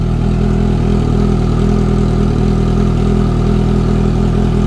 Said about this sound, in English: let's see what it sounds just idling.